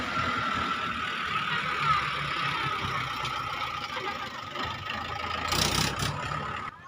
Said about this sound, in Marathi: इकडनं आता आमचा ट्रॅक्टर येत आहे